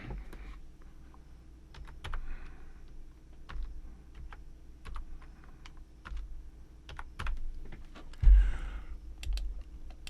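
Computer keyboard typing of coordinate values: scattered crisp key clicks in uneven bursts, close and moderately quiet, with no voices.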